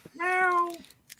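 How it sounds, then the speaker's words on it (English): A house cat gives a single clear, drawn-out meow up close, rising then falling, with faint room noise before and after. "A cat."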